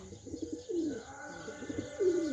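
Soft, low coos of domestic pigeons repeat in short rolling phrases, fairly quiet and close, with a few faint chirps mixed in.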